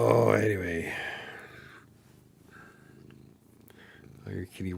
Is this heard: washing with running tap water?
no